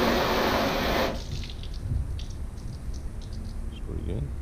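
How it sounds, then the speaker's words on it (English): Water gushes over a waxed car panel in a loud opening burst of about one second, then thins to soft trickles and drips running off the surface. "at the very end, too, you want to see how well it flushes the panel."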